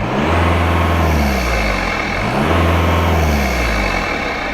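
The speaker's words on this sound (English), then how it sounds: "a few clips of me just giving it throttle and letting off, and you can hear the turbo clearly going psh" A turbocharged engine with a modified, louder turbo revs twice in quick succession, each surge of throttle followed by a hissing blow-off release, loud and close with no voices.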